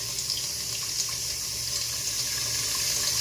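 Water runs out steadily while a household water filter is being changed, a continuous rushing flow like an open tap, close by and unbroken.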